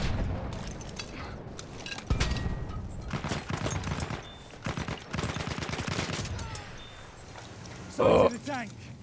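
An SMG 08 submachine gun fires in Battlefield 1, rapid automatic bursts mixed with game effects and a loud blast near the end, while someone talks over much of the action.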